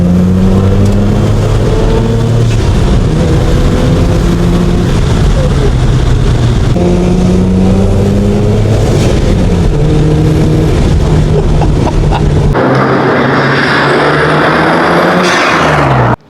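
A Mazda RX-7 FD turbo engine accelerates hard and loud, its pitch climbing through the gears with shifts between, close and continuous, then fades into road and wind noise.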